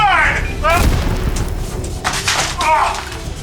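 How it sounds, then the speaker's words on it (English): Booming blasts from a staged comic explosion stunt go off in a series of loud bursts, with excited voices talking and exclaiming over the bangs. "The explosion!"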